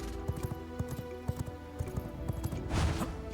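Horse hooves clip-clop steadily in the vampire survival game V Rising, a quick rhythmic trot of close, distinct hoofbeats with a brief rush of noise near the end.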